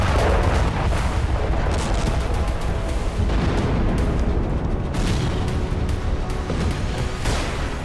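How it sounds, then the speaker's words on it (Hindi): Israeli air force missiles and bombs strike towns in southern Lebanon, a dense, continuous roar of blasts and rumbling fire that stays loud and unbroken throughout. "इजरायली वायुसेना ने लेबनान के कई शहरों पर मिसाइल और बम बरसाए।"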